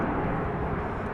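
A fixed-wing airliner departs from the east side of Dallas Love Field, heard as a steady, broad distant jet roar with no breaks across the short stretch.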